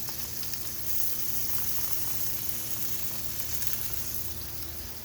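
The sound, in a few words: garlic and green onions sizzling in pan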